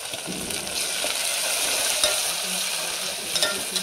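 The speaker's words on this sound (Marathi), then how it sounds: "त्यामध्ये आपण टाकणार आहोत टमाटर" Tomatoes tipped into browned onions frying in a pan for a Vidarbha-style vegetable dish, giving a steady close, dense sizzle with light stirring scrapes throughout, no voices.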